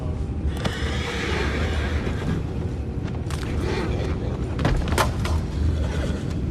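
A horse whinnies in Red Dead Redemption 2 over a steady low rumble of background noise, with faint clopping and mechanical sounds around it.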